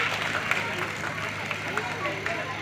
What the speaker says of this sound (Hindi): इन सभी बच्चों के लिए एक बार जोरदार तालियां होनी चाहिए